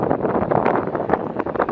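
Outdoor wind buffets the microphone in loud, continuous gusty rumbles and thumps, with no other sound standing out.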